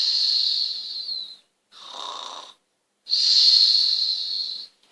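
A person mimics snoring during a children's tortoise-and-hare story, giving three drawn-out breathy, whistling snore sounds with short silent gaps, close and fairly loud.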